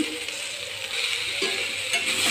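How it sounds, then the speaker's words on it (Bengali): Mixed vegetables fry in oil with turmeric, chili powder and salt, giving a steady close sizzle with occasional stirring scrapes that grows slightly louder toward the end, with no voices. "সবজিটা ভালোভাবে ভেজে নিচ্ছি।"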